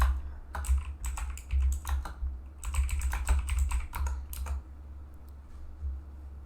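A name is typed on a computer keyboard in quick, uneven bursts of crisp key clicks close by, trailing off into quiet room tone.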